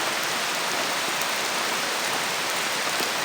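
Heavy rain pours down steadily and loudly, a dense unbroken hiss of drops striking surfaces nearby, with no voices.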